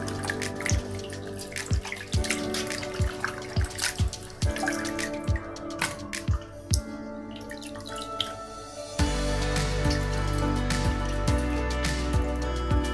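Small fish washed by hand in water, with close splashes and steady dripping, then a heavier flow of running tap water in the latter part.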